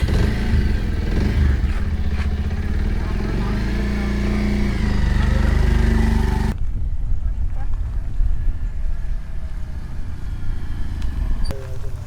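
A motorcycle engine hums steadily and fairly close for about six seconds, then cuts off abruptly, leaving a quieter background with faint scattered noises.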